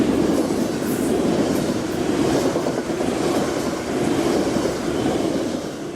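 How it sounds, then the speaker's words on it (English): The Coast Starlight passenger train nears Eugene, Oregon, heard as a steady close rumble of wheels on rails with faint rhythmic clicking and occasional high squeals, continuous and fairly loud, no talking. "The train is now approaching Eugene in Oregon."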